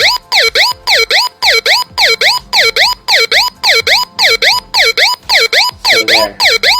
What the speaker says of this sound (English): That's the sound of an alarm.